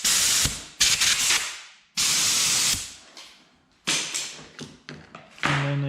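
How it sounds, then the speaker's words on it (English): Compressed air blasting in repeated loud hissing bursts through a nylon tube on a RANS S-21 aircraft firewall-forward setup to clear out contaminants, each burst tapering off before the next, close and alone. "Also take this opportunity to blow any contaminants out of it."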